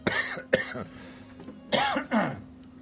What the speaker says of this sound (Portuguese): Desculpa que eu vou dar uma tossidinha.